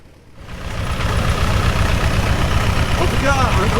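A vintage Georges Richard car engine starts up and settles into a loud, steady chugging idle that fills the clip, close by.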